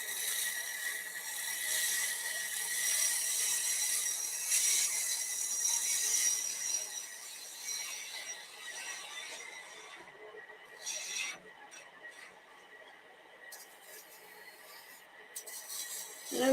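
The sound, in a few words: wood lathe turning a lid with a gouge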